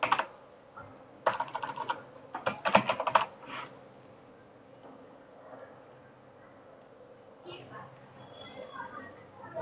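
Typing on a computer keyboard while entering employee details into a payroll application, with quick bursts of clustered keystrokes early on, then quieter scattered taps under a speaking voice.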